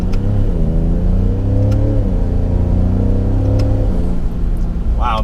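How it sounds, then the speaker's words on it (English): A 2017 Ford F-150 Raptor pickup accelerates under light throttle, its engine note rising and falling through several gear changes, heard close and loud from inside the cab with faint road noise. "So now to check out a little bit of the acceleration."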